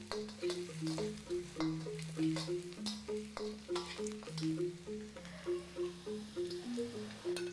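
Shallots sizzling and frying in a pan for a Balinese vegetable dish, a steady close crackle with soft stirring scrapes, over faint background music.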